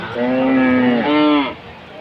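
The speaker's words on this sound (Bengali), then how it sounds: "খুব সুন্দর একটি গরু দেখতেই পাচ্ছেন অস্ট্রেলিয়ান গরুগুলা" A close, single drawn-out moo comes from an Australian breed cow at a village cattle market, the Bishnandi haat, rising slightly in pitch near its end before stopping.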